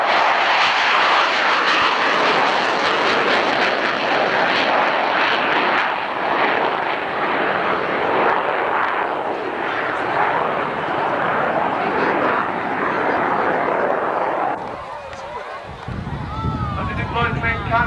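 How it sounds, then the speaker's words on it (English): A General Dynamics F-111 jet roars past at a 1991 Cold War-era airshow, its loud broadband engine noise sustained for about fifteen seconds before abruptly cutting away to quieter sounds with voices. "The General Dynamics F-11."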